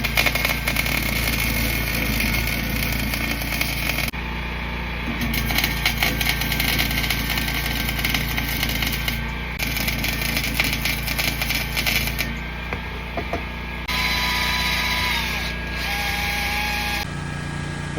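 Welding a leftover motorcycle exhaust pipe: a harsh, crackling electrical buzz that runs in bursts of several seconds, broken by brief pauses, close and fairly loud with no talking.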